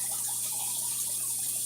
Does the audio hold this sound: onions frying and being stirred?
no